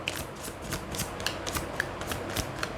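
Tarot cards handled and drawn during a reading: quick, papery flicks and soft slides in an irregular run, close and fairly quiet, with no talking.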